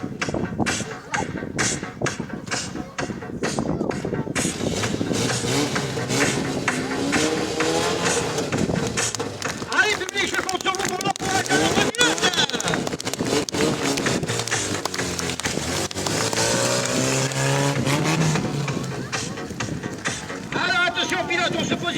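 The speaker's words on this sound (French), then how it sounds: "Vous allez pouvoir découvrir notre voiture Opel Kadett de 1974 en équilibre sur deux roues." A 1974 Opel Kadett stunt car balancing on two wheels at a stunt show, engine revving loudly and continuously with tire squeal and skidding, heard close over crowd noise and an announcer's voice.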